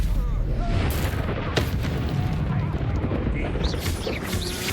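Spell blasts going off in Hogwarts Legacy: a dense, continuous roar of booming explosions with rumbling low end and sharp crackling bursts, loud and close, layered with game effects.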